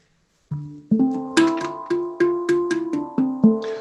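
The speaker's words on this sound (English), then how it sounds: "So I'm gonna grab my shiny metal friend over here. This is my handpan." Metallic handpan notes ring out one after another in a steady, gentle rhythm, each tone sustaining and overlapping with the next, played close and alone.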